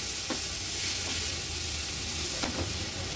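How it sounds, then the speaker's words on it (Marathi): Finely chopped onion with ginger and garlic sautéing in oil over a low flame, a soft steady sizzle with a couple of faint stirring scrapes. "आलं लसूण आणि कांदा परतून घेतला"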